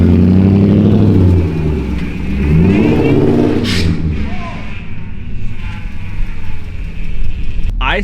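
A cheap, troubled BMW revs hard while being driven, its engine note sweeping up and down through gear changes, loud and close, with a voice heard briefly over it.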